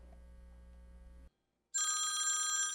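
A telephone rings in short bursts, a faint hum first, then a brief silence, then a loud, bright electronic bell ring.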